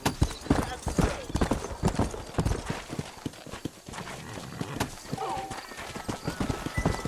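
Horse hooves clip-clop steadily in Red Dead Redemption, a busy, fairly close rhythm of many hoofbeats with a brief whinny and character speech over the top.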